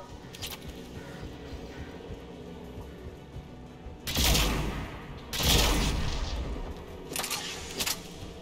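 Anti-aircraft gun firing in Mass Effect 3, two heavy booming volleys of rapid fire with a few shorter bursts after them, loud against a low ambient background of the battlefield.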